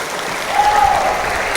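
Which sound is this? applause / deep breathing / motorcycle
applause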